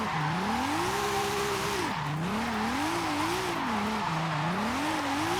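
Tire squeal from a 2JZ-swapped Toyota Trueno AE86 in Forza Horizon 5 during a festival event, a loud continuous wavering screech over steady engine roar, rising and falling in pitch as the car slides.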